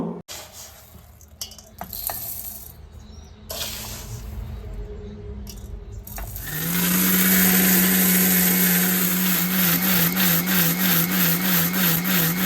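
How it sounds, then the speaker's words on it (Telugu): A mixer grinder whirs loudly as it grinds a roasted urad dal flour mixture for sunnundalu sweets, starting with a sharp surge after quieter handling sounds, then a steady harsh grind that pulses near the end. "ఇప్పుడైతే మిక్సీ అయితే పట్టేసుకుందాం"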